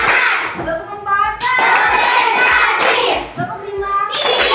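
In a school classroom, a standing group of children claps out a rhythmic counting pattern; rough bursts of many hands striking at once alternate with shouted young voices, loud and close.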